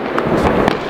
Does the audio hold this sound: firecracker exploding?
yes